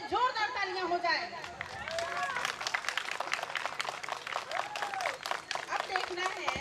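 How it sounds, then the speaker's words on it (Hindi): Guests on the bride's side at a wedding break into clapping, sharp rapid claps building up beneath lively chatter and overlapping voices. "तो पहले वधु पक्ष की तरफ से जोरदार तालियां हो जाए।"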